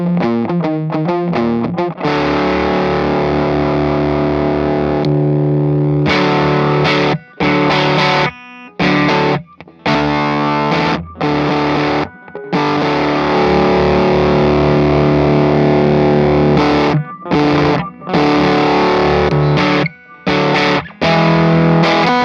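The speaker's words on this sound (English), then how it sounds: "So this one is the White Atom Fuzz from Magnetic Effects." Electric guitar played through a White Atom Fuzz pedal from Magnetic Effects gives a thick, loud, saturated tone in continuous chords and riffs with brief choppy stops, up close and alone.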